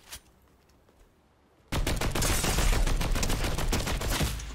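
Rapid automatic gunfire from the video game Fortnite erupts suddenly after a quiet moment with one faint shot, then continues as a loud, dense, unbroken burst of shots.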